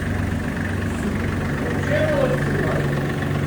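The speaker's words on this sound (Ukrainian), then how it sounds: "240-ка куботка працює." A Kubota 240 compact tractor engine runs at a steady idle with a fitted rotary tiller, a close, continuous low rumble with an even chugging rhythm.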